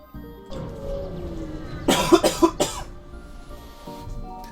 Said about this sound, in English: I turned completely away from the microphone to cough there